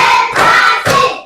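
Fourth-grade pupils clap in unison during a classroom clap game: two or three loud, close bursts of group hand claps, each fading out.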